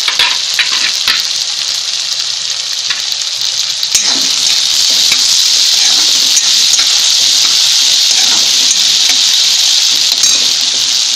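Chopped tomatoes and coriander hit a hot pan over high flame for chana masala, sizzling loudly and continuously with bursts of stirring, close up and without talk.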